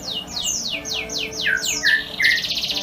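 Small birds, including magpie robins, call in a green terrace aviary. A quick run of bright, falling chirps repeats several times, then ends in a sharper buzzy note, all fairly close with a quiet background and no talk.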